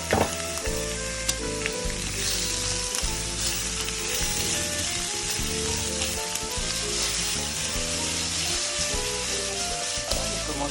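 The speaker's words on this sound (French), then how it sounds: "Et on y verse nos échalotes. On les fait revenir quelques secondes." Shallots and cucumber pieces sautéing in a pan for a pork and cucumber stir fry, a steady bright sizzle with occasional stirring scrapes, close and continuous, no talk.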